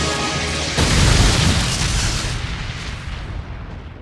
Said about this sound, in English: Oh, so now the fire causes an explosion.